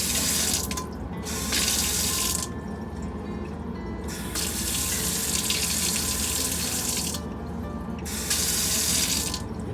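Water runs from a Grohe LadyLux faucet in a 1998 Newell Coach in steady bursts, fed by a water pump, cutting off briefly between flows, with a constant hiss and splash close by.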